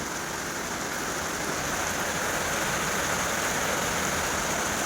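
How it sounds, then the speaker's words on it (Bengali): A downpour falls hard and continuously, a thick even wash of rain noise close around the listener, with no speech. "প্রচণ্ড জোরে বৃষ্টি হচ্ছে, প্রচণ্ড জোরে বৃষ্টি হচ্ছে। বৃষ্টির কি আওয়াজ!"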